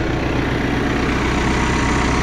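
A crop-spraying farm tractor's engine idles steadily close by, a continuous low rumbling drone with no pauses and no voices.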